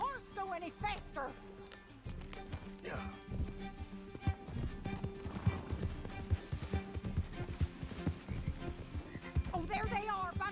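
Hooves clip-clop rapidly as a horse gallops in Red Dead Redemption 2, with a horse neighing near the start and end over a busy game soundscape.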